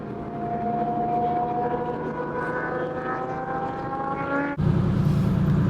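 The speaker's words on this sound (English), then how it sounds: "That red car is so loud." A loud red car drives past on a mountain road, a steady harmonic engine note rising in pitch for several seconds before a sudden burst of louder broadband roar as it passes close.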